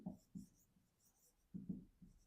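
Writing out a math solution produces a few soft, close scratching strokes in two short bursts with a pause between them.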